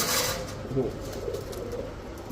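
Female feather-footed pigeons kept among other fancy pigeons, soft low cooing rising under background noise, with a voice talking nearby.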